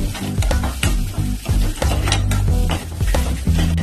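Ground fennel seeds and turmeric sizzling in hot oil in a pan while being stirred, with steady frying crackle broken by repeated scraping stirs and light utensil clatter against the pan.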